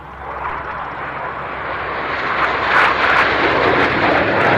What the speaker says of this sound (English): that's a quick second look at that crossover split that all the aircraft do with the Frecce Tricolore